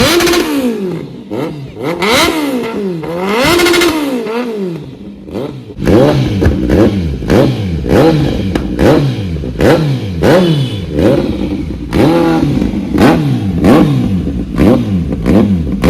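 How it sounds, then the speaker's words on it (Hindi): Aprilia RS 457 motorcycle fitted with a custom SC Project exhaust, revved repeatedly up close: loud rising and falling engine blips in quick succession, with sharp crackles between revs and no talking. "भैया सुनाने जा रहे हैं अपनी G900 का एग्जॉस्ट साउंड"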